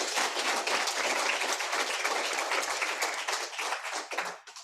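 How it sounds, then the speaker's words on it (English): Audience at a charity's annual general meeting gives a round of applause, dense sustained clapping from many hands that holds steady and then tapers off near the end. "Round of applause, please."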